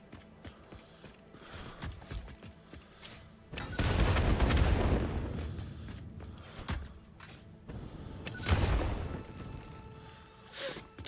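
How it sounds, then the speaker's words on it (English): Explosions go off in a factory-building video game: a big booming blast with a long fading tail, then a second smaller burst a few seconds later, over quiet background clicks. "Nice big explosion."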